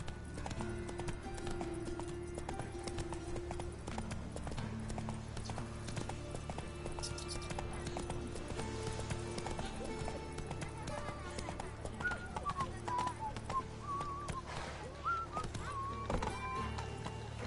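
Roach, the horse in The Witcher 3 video game, galloping in a steady rapid clip-clop of hooves that runs throughout under ambient game music, with a voice speaking briefly.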